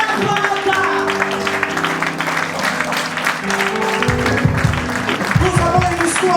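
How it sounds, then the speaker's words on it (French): A church congregation claps along steadily through a lively worship song, with dense, continuous clapping under music and singing voices. "Clap your hands for our God."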